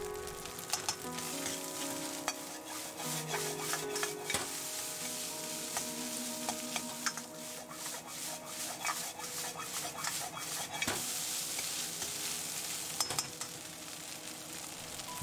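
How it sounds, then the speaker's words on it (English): Rice stir-fried in a pan with diced chashu pork and chopped naruto fish cake, giving a steady sizzle with repeated scraping and stirring strokes. The sound is close and continuous, with no talking. "Stir fry till the ingredients are mixed well."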